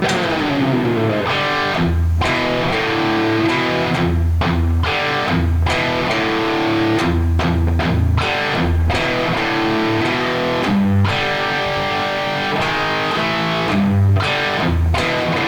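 A distorted electric guitar plays a slow, chugging riff with sustained chords and palm-muted low notes, steady and loud with no voices.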